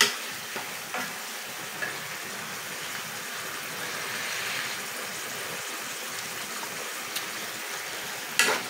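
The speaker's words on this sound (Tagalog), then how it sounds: "ayan lang natin siya kumulo para maging luto na yung sayote niya" Chayote simmering in a pot, a soft continuous bubbling and sizzle with a few faint clinks, moderately close and steady.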